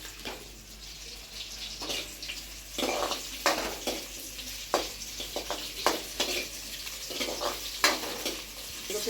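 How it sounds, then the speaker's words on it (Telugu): Chopped tomatoes fry and sizzle in a home kitchen pan alongside onions, with a steady hiss broken by repeated scraping stirs at close range and no talking. "కొద్దిగా వేగిన తర్వాత టమోటాలు వేసుకున్నాం."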